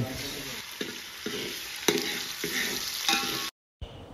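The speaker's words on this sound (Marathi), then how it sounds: "तेल गरम झाल्यावर कांदो टाकला आणि कांदो ढवळून घेतला" Onion and tomato sizzling in hot oil in a pot over a wood-fired chulha, with a spoon scraping and stirring in regular strokes about every half second, close and moderately quiet, with a brief gap near the end.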